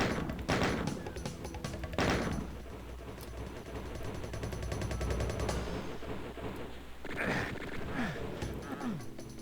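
Gunfire in a Doom game map, shot at switches from small cubby holes, comes as loud repeated blasts in short bursts over a continuous game soundscape, with no talking.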